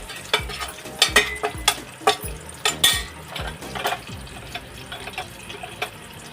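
Mustard seeds and cumin crackle and sputter in hot oil in a pan for a Maharashtrian dal varan, a busy run of close, sharp pops and sizzling with stirring scrapes, no voices.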